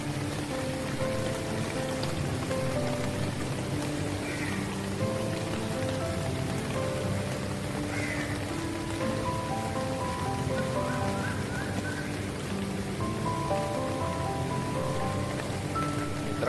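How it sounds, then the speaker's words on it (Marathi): Steady rain falling on the open Azad Maidan ground in Mumbai during a protest sit-in, an even, continuous hiss of drops at moderate distance with faint tonal background sounds and no talking. "मैदानात सध्या पाऊस चालू आहे"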